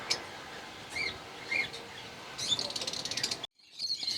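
Lovebirds chirping in a variety aviary setup, several short bright calls and twittering near the mic, a busier burst of rapid chatter toward the end before a brief drop.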